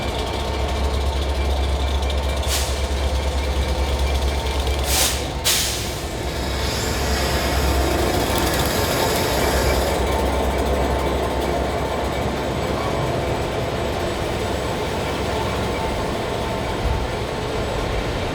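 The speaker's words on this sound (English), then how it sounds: "The train that doesn't stop on platform 15 is the Belmond British Pullman, hauled by two Class 67 diesel-electric locomotives, one at each end." Belmond British Pullman train hauled by two Class 67 diesel-electric locomotives passes through a station, a steady loud rumble and drone with a few sharp squeals and clanks early on, continuing without talk.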